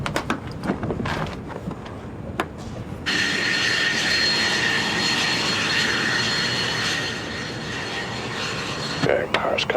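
The engine of a Proteus aircraft powers up, rising from scattered clattering noise into a loud, steady roar with a high whine, then easing off before the clip ends; voices talk over radio alongside it.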